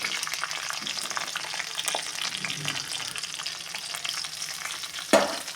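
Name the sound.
onions, curry leaves and green chillies frying in a pan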